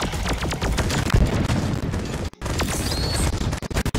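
Rapid gunfire in the video game Deep Rock Galactic, dense bursts and volleys with crashing impacts filling four seconds, loud and continuous with one brief gap midway.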